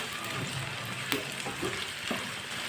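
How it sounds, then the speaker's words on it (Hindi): Chopped okra frying in a pan with red and green chilies, a steady sizzle with occasional stirring scrapes and clinks of a utensil against the pan. "कटी हुई भिंडी डालेंगे, अच्छी तरह मिक्स कर लेंगे।"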